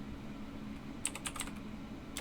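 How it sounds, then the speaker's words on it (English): Fast typing on a computer keyboard during a live card-opening stream, a quick burst of light clicking keystrokes around the middle and another brief flurry at the end, under a steady low background hum. "Typing it too fast."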